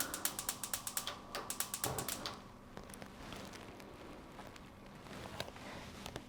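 A stove burner is turned on to medium heat for candy making, with a quick run of sharp, evenly spaced clicks that fade into scattered lighter ticks and a quiet background.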